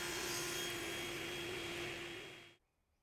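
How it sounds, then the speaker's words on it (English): A table saw with a miter gauge cuts an angle at the base of wooden chair legs, a steady loud whine that stops abruptly near the end. "I can cut the angle at the base of the legs with the miter gauge"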